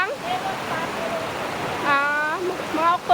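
A small stream swollen with fresh rainwater rushes steadily close by, a constant broadband wash with splashy bursts, while a voice talks over it in places.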